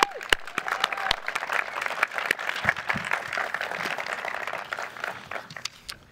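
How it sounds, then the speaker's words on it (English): At a police academy graduation ceremony, the audience applauds, a moderately faint patter of clapping with a few sharper nearby claps, tapering slightly toward the end. "Would you all give Donna a round of applause, please?"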